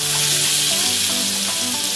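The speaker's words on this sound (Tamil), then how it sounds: "ஆம்லேட்டுக்கு வெங்காயம் வதக்குறதுக்கு அதுக்கு நம்ம வெங்காயத்தை போட்டு வதக்கிடுவோம்." Onions sauté in hot oil for an omelette, giving a loud, dense, continuous sizzle that stays even from start to finish, close up with no talking.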